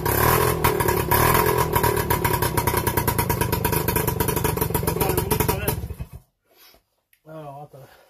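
An MBK 51 moped engine runs loud and close, a steady buzzing two-stroke rattle for about six seconds, then cuts out abruptly, followed by a short, faint voice.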